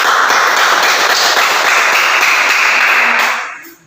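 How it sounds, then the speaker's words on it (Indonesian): Applause from a classroom of students for group Macan: a dense, loud, sustained burst of many hands clapping together that fades quickly at the end. "Silakan kasih tepuk tangan ke kelompok Macan"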